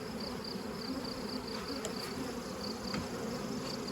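Honey bees swarm around an opened hive during splitting, a dense steady buzz from many insects close by with a few brief knocks from handled frames.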